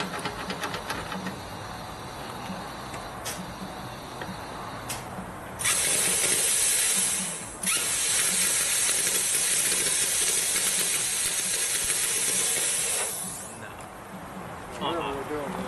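A Vevor CUT-50P 50A air plasma cutter running wide open, giving a loud, steady hiss that snaps on partway through, briefly cuts out, then holds before tapering off, with people talking throughout over machine noise.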